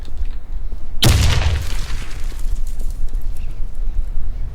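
A grenade explodes in the online shooter War Inc, one sudden loud boom with a short rumbling tail that fades over a second or two, set against low game ambience.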